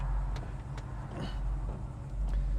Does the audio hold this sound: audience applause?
no